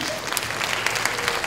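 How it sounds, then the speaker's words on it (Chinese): An audience at a Taiwan street dance competition claps together in a brief, even burst of applause that fills the hall. "大家应该给配艺再掌声鼓励一下。"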